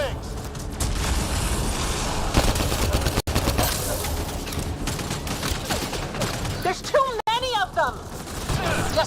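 Gunfire in the video game Mass Effect: Andromeda, dense bursts of rapid shots and booms in a busy battle, with a voice shouting over it.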